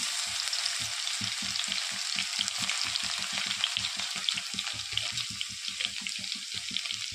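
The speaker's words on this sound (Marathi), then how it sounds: "तेल गरम झालं आहे दोन ते तीन पळ्या तेल टाकले मी आता टाकत आहे जिरे भरपूरच लसूण" Cumin seeds and plenty of garlic crackle and sizzle in two to three ladles of hot oil, a close, steady, dense frying hiss with fine popping throughout.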